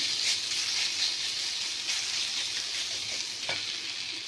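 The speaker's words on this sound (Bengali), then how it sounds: "দেখো একটুখানি সুন্দর করে ভাজা ভাজা মতন করে নিলাম" Prawns with tomatoes fry and are stirred in a pan for a Bengali chingri kosha, giving a steady, close sizzle with scraping stir strokes throughout and no talk.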